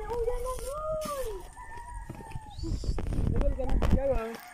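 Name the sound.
chickens clucking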